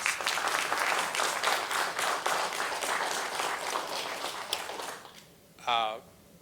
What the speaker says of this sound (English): Please give that a round of applause.